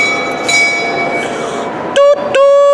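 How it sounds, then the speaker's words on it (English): Kiddie choo-choo train ride inside a shopping mall, rolling with steady rumble and ringing bell-like tones, then two sharp whistle toots near the end. "I'm on the choo-choo train with children."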